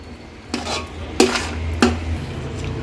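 Semolina is roasted in a pan with banana and dry fruits such as cashews, almonds and charoli for sheera. Three distinct metallic spoon scrapes and clinks sound up close over a faint, steady cooking hiss.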